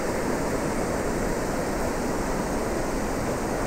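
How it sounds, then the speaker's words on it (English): Steady, broad rushing roar of a waterfall swollen after heavy rain in Müllerthal, heard from a bridge above, constant and loud throughout with no pauses. "Down here is our waterfall."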